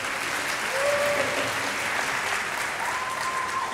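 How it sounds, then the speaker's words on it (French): An audience applauds a hairdressing model at a live hair styling demonstration, steady dense clapping filling the room throughout, with a couple of faint tonal whistles or squeaks drifting over it. "Petit applaudissement, ça lui fera plaisir."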